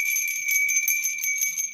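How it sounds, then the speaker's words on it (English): A small bell rung steadily at close range, its bright sustained ringing tones pulsing gently for under two seconds with no voices. "I'm gonna go ahead and ring my bell."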